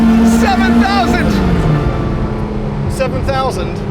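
A Tuthill Porsche 911K engine drones steadily underneath someone talking, its pitch sagging slightly partway through rather than climbing to a clear high-rpm scream.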